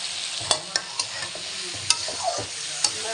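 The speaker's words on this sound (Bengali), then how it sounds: "এবার ভালো করে কষাবো।" Hilsa fish curry with potatoes, eggplant and cumin powder being stir-fried in a pan, a steady sizzle broken by several sharp spatula scrapes and knocks spread through the clip.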